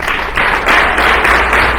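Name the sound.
audience applause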